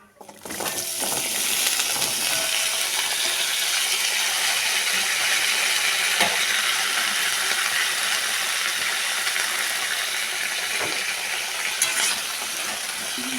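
Vegetables frying in a Bengali spice tempering in a pan, a steady, close, broadband sizzle holding evenly throughout with a few faint scraping clicks and no talking.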